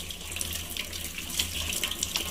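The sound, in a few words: vegetables being washed under running tap water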